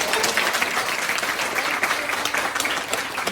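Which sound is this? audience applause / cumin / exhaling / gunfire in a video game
audience applause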